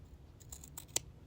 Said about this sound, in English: I usually just take my scissors and cut